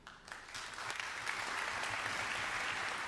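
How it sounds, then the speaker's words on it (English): Polite audience applause at a school honor band gala concert, a steady wash of many hands clapping at moderate distance that rises quickly and holds evenly for about three seconds. "A nice bit of British polite applause."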